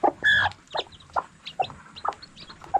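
Native chickens cluck close by in a pen, a series of short repeated clucks and calls spaced in an irregular rhythm, clear and without talk.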